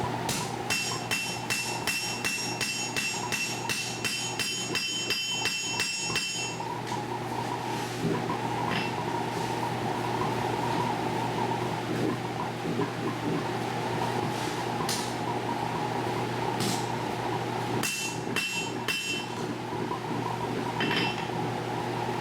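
A steady roaring gas forge burner, running low on gas, drones at the back while metallic hammer strikes ring out, fast at first and then sparse, with a slightly wavering, uneven tone.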